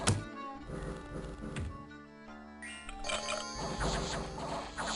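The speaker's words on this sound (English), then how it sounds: "And the giant has fallen." Giant falling in battle in the Dominions 4 video game, heavy thunks and crashing impacts over layered game music, with a brief burst of smashing near the start.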